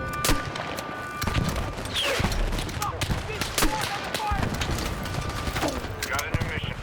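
Weapon reload in Battlefield RedSec amid a firefight: mechanical clicks and ratcheting mixed with bursts of gunfire and distant shots, steady and busy throughout.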